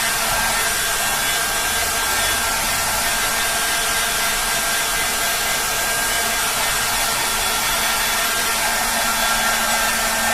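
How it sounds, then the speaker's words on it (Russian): A hair dryer heating a Reebok shoe sole blows steadily and loudly throughout, a constant whooshing hum with no breaks and no talking. "А тут, получается, самим феном проходишь, но не годится."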